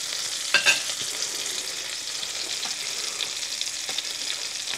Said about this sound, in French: Ça se cuit tout doucement, hein. Il ne faut pas mettre un feu fort, sinon ça abîme les Saint-Jacques.